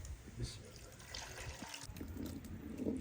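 Water is poured into masala frying in oil for a green chickpea curry, a faint trickle and gentle sizzle lasting a few seconds, quiet and steady with no voice over it.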